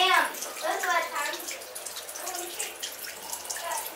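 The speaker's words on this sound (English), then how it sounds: "turn the water off" Water running from a tap, splashing and dripping into a basin at close range, steady and soft, with a child and an adult talking over it.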